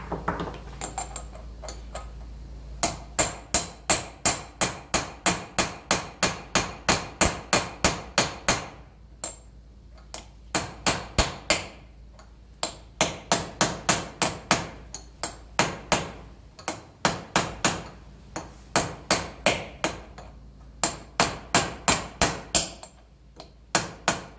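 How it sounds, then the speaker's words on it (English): Hammer striking a punch on the wheel hub of a 1954 Ferguson TEF 20 diesel tractor, many sharp metallic taps in quick rhythmic bursts with short pauses, close and clear. "I'll just grab a punch and tap that out"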